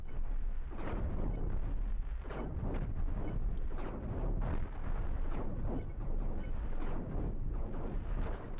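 Ship weapons firing in the space game Cosmoteer, a steady barrage of deep, rumbling booms and blasts repeating about every half second, loud and continuous without speech.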